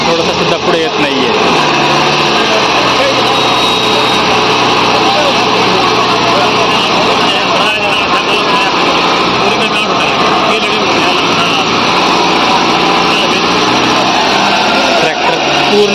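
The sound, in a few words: Massey Ferguson tractor engine straining, wheels slipping, pulling loaded trailer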